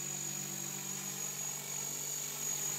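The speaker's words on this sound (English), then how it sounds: "I hear a blade noise that just started." Model helicopter rotor blades with one blade out of track, a steady whirring drone with a high whine on top, sounding continuous and fairly loud throughout with no talk.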